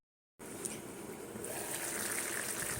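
Water pours into a pan of potatoes and poppy-seed paste, a soft, steady splashing gush that begins abruptly after a brief silence and continues to the end.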